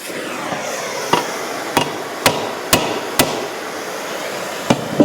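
A hammer strikes an anvil in a workshop: about seven sharp, ringing metallic blows at uneven intervals, loud and close, with quiet background between hits.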